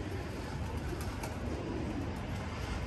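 Homing pigeons on a rooftop coo softly and repeatedly, their low murmuring set against a constant outdoor background hiss.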